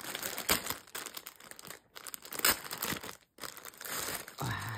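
A slightly plastic-coated pouch is opened close up with continuous crinkling and rustling in bursts, with brief pauses between handling movements and no talking.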